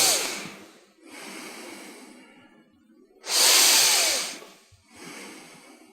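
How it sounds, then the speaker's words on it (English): Deep abdominal breathing by a person, with slow inhale and exhale cycles close to the mic, one forceful breath clearly louder than the rest, no talking. "keep your right hand on your abdomen and then take couple of deep breaths like"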